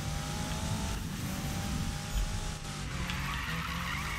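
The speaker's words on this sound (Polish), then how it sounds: "A tu się wyjątkowo dziwnie driftuje, serio." A car drifts with skidding, squealing tires in Need for Speed 2015, the engine droning steadily underneath a continuous loud slide with brief bumps partway through.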